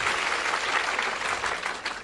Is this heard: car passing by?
no